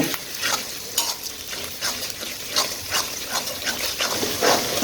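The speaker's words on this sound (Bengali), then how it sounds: "আদা রসুনটা আমার ভেজে নেওয়া হয়ে গিয়েছে" Ginger-garlic paste fries in a pan for a spicy beef curry, giving a steady sizzle broken by repeated scraping stirs, close and fairly loud, with no voices.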